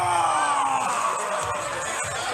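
A wrestling crowd at a Battle on the Border title match cheers and whoops in a loud, sustained roar throughout the short stretch.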